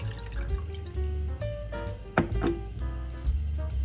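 Orange juice is poured into a heated pan on the stove, giving a splashing, dripping liquid sound with soft clinks and irregular surges, heard up close.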